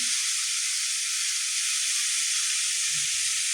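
Oil in a hot pan hisses and sizzles steadily, a dense bright frying sound for goat booti fry, constant and fairly loud with no pauses.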